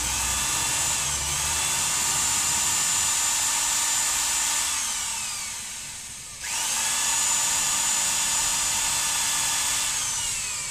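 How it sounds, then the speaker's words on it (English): A power drill with a countersink bit bores through the hard heartwood of an oak branch, whining steadily, spinning down briefly and then revving back up, close and loud. "I'll just use a bit, which is a countersink tip, to then drill an appropriate"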